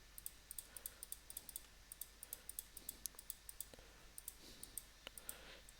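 Quick, light mouse clicks while editing a circuit in LTSpice software, coming in an irregular but steady series, faint and close, with no one talking.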